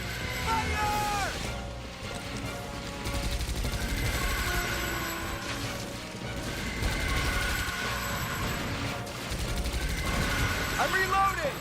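Heavy automatic gunfire from the video game Earth Defense Force 2017, loud and continuous with crashes and mechanical clatter, with in-game voices shouting over the shooting.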